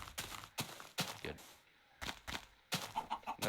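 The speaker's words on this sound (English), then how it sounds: "Oh, it's a chicken." Minecraft chickens clucking in beta 1.7.3, a run of short, separate clucks that recur close by, with a player's voice talking in between.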